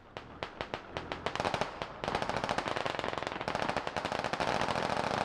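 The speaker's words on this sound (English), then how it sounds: "Shots being fired." Heavy machine gun fire in a Squad military shooter game, starting as a rapid series of separate loud shots and then merging into a dense, sustained burst of automatic fire.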